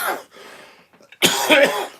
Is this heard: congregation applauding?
no